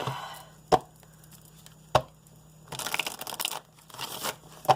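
Oracle cards are shuffled: a few sharp taps of a deck on a surface alternate with quick bursts of riffling.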